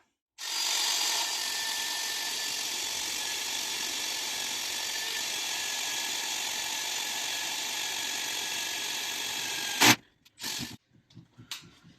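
A budget Parkside power drill runs steadily at high speed for nearly ten seconds, close and loud, then stops abruptly, followed by a few short clunks and rattles.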